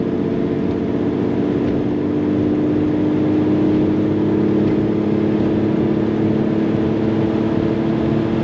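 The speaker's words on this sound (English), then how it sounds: "Throaty little motor" A restored 1966 Jaguar S-Type with a 3.8L engine accelerating, its throaty drone steady and loud at close range, with no talk over it.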